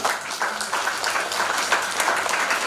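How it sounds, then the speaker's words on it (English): Steady, dense applause from parents and audience at a school investiture ceremony, many hands clapping together continuously with no talk over it. "Give them all a big round of applause."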